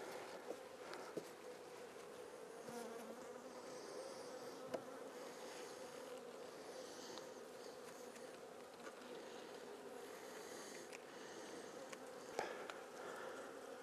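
Honey bees crowd a hive frame in winter, making a steady, soft, continuous buzz with small swells in pitch, heard alone with no voices.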